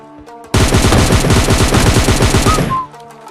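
Automatic gunfire in the mobile shooter PUBG Lite: one loud, continuous burst of rapid shots lasting about two seconds, with quieter game sounds before and after.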